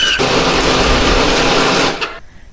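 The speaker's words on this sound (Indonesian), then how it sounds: "Hari ini aku menghaluskannya pakai blender." A kitchen blender purees cooking ingredients loosened with added water, a loud continuous grinding whir that runs steadily for about two seconds and then cuts off abruptly, leaving a quiet tail.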